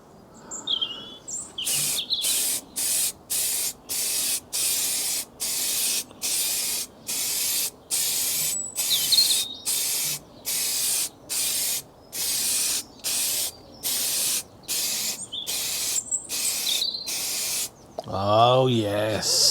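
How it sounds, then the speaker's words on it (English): Aerosol can of Simoniz Tough Paint in satin black sprayed onto Triumph Explorer motorcycle crash bars, about twenty close, loud hissing bursts in a steady rhythm with short gaps between them. "Just going to do the other side if I can turn it."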